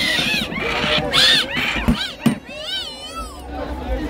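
Several high, wavering cat meows ring out close by, with a babble of people talking underneath and a couple of sharp knocks midway.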